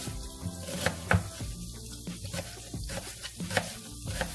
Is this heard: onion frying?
yes